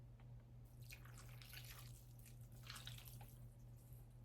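Beef soup is poured onto rice, producing a soft, close liquid trickle and splashing over a low steady hum, quiet and continuous for a few seconds.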